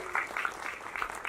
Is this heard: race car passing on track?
no